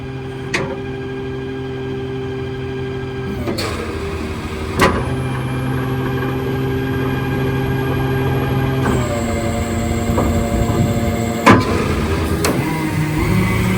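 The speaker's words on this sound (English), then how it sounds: "then you can automatically stow your outriggers" Hydraulic outriggers on an Elliott L65 boom truck retracting automatically, a steady engine drone with hum shifting in stages and a few sharp clunks as sections stop and start, continuous and fairly close.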